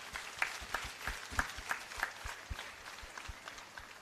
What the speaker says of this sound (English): I think we should give her a loud round of applause.